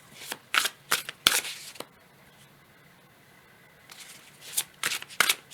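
A deck of oracle cards is shuffled for a general card reading, giving close, crisp riffling bursts at the start and again near the end with a quiet gap between.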